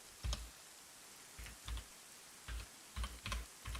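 Loud computer keyboard typing during an online Arma game session, short bursts of clattering key clicks with pauses between them, close to the microphone and alone without talk.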